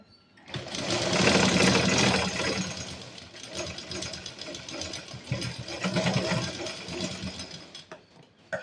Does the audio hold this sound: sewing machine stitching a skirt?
yes